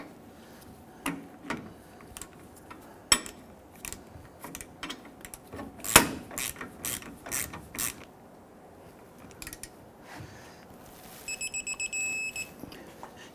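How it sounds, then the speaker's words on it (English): A torque wrench tightening the lower shock absorber bolt on a Nissan Frontier gives scattered soft ratchet clicks and creaks, then a short run of sharp rapid clicks near the end, quiet and close, with no talking. "We're going to torque the lower bolt to 148 foot-pounds."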